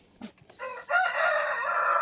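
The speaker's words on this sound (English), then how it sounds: "Oh, yeah, they can listen to the rooster crow." A rooster gives one loud, close crow lasting about a second, after a few brief softer sounds. No voices.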